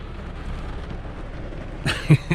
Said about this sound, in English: it is pounding rain